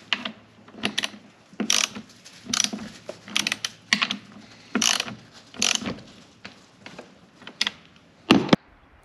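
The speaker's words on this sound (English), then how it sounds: "Then I gotta tighten the nuts back up" Nuts being tightened back onto a chainsaw chain cover, a series of close, sharp ratcheting clicks in irregular bursts separated by short quiet gaps.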